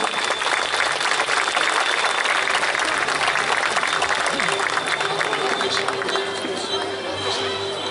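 A large audience at the third Gala 10 pentru Fălticeni awards ceremony applauds steadily as nominees go up to the stage, a dense, loud, continuous wash of clapping with faint voices and crowd murmur underneath.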